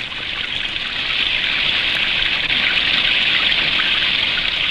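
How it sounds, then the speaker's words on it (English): Spring rainwater rushing through a brook and stream makes a steady, even hiss of flowing water, close and continuous with no pauses, and it grows slightly louder after the first second. "Rain fills each brook and stream."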